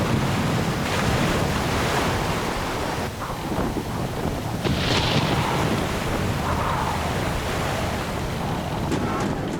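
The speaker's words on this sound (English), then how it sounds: "Just 4 days from home, the Essex encounters a violent storm." A violent storm at sea lashes the whaleship Essex: heavy waves crash and surge while strong wind roars continuously across the whole stretch, loud and close with no clear talk.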